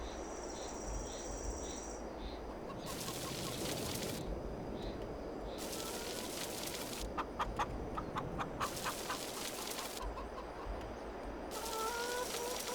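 Chickens in the Farming Simulator 22 game cluck and murmur around a coop over a constant bed of crickets and ambient countryside noise, with several louder bursts of clucking coming and going.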